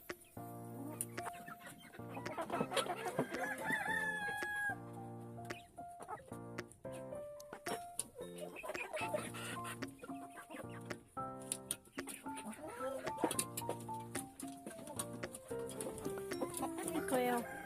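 Chickens eating mealworm treats on a farm, with many close, overlapping clucks and chattering calls in an irregular, busy flurry throughout and no talk.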